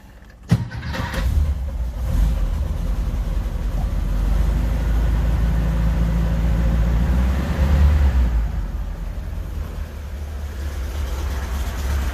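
An engine with an electric choke cranks and catches after a sharp click, then settles into a steady low rumbling idle that rises briefly before easing, loud and close with no talk.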